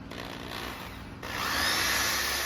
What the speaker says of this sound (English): using an Allen key in a drill, I'm going to run it anti-clockwise in the gear just to see